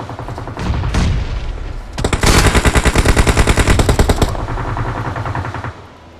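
Rapid automatic gunfire rattles loud and close in a PUBG Mobile match, a few scattered shots at first, then a long dense burst of steady repeated rounds before tapering into a softer rumble.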